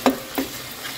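Ginger garlic paste, onion and green chili frying in a pan for chicken curry, stirred twice in quick succession, with a soft sizzle continuing close by underneath.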